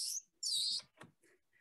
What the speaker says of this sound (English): So this is a bird called an eastern towhee.